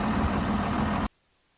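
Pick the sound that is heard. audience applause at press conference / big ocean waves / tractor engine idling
tractor engine idling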